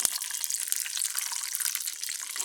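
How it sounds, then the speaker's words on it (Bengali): Garlic, green chili and onion hit hot oil, giving a faint, continuous crackling sizzle with a few sharper pops and no voices. "আমি এর ভিতরে এখন দিয়ে দেবো হলো রসুন, কাঁচামরিচ আর পেঁয়াজ দিয়ে ভালোভাবে একটু ভেজে নেব"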